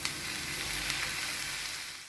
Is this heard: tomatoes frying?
yes